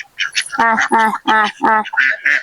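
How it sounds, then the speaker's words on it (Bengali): Domestic village ducks in the Sundarbans quack in a quick series of nasal calls, close and fairly loud, with several bursts in succession and no talking. "কুড়ো দিয়ে হাঁসটাকে ধরতে যাচ্ছি"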